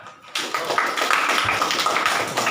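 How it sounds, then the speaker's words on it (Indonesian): A classroom of students breaks into dense, steady applause that starts abruptly after a brief quiet and keeps going with crisp overlapping claps. "tepuk tangan"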